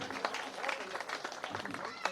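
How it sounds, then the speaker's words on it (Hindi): Audience applause at a Hindi kavi sammelan for the poet Dinkar Pathak, a steady wash of clapping with a speaking voice heard over it throughout. "एक बार जोरदार तालियां भाई दिनकर पाठक के लिए।"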